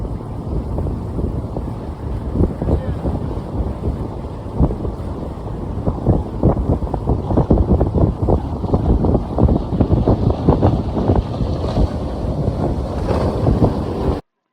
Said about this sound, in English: We pull anchor at 6:45 a.m. and we're off to cross the Gulf Stream